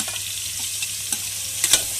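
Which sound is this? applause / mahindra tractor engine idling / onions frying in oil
onions frying in oil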